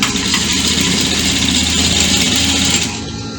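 A sewing machine stitches pencil dress fabric with a fast, steady mechanical whir and rapid needle chatter, close and loud, stopping near the end, with no talk.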